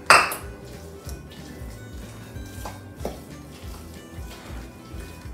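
A utensil clinks against a pot while stirring pinangat (taro in coconut milk with calamansi juice), with a sharp knock at the start, then light scraping and occasional taps.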